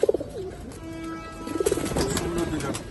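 Pigeons of a red-geared Moyna breed cooing up close, soft throaty coos repeating in short phrases with a few wing-like flutters at the start.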